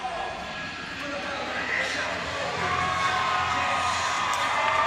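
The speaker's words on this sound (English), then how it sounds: "Here the crowd ovation, Lexington native." A crowd at a live MMA event in Heritage Hall, Lexington, Kentucky, gives a steady, sustained ovation, a broad cheer that builds slightly toward the end and carries on under a commentator's voice.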